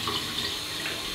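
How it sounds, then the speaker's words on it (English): Water runs steadily from a bathroom tap into a sink while it warms up before a straight razor wet shave, a continuous close hiss with no talk. "Let that water get hot."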